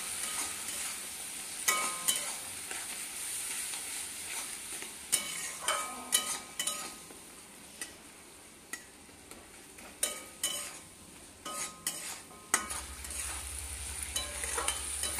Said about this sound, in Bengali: খুব সামান্য একটু জল দিয়ে সব মশলাটাকে এবার কষিয়ে নিতে হবে।